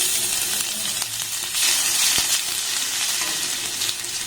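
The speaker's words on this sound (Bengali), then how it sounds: "রসুনটাকে একটু ভাজা ভাজা করে নেব" Garlic with whole cumin seeds fries in a pan, giving a steady, close sizzle that swells briefly in the middle, with faint stirring knocks throughout.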